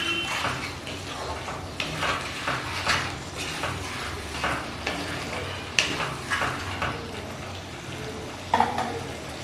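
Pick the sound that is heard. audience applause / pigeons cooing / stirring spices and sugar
stirring spices and sugar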